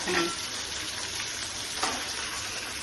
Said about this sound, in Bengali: তাহলে এখন বেগুন দিয়ে একটা ফ্রাই করে নিচ্ছি।